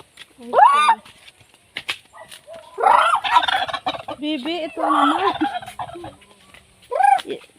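A turkey gobbles loudly in rapid warbling bursts, close by, with people talking in between and over the calls.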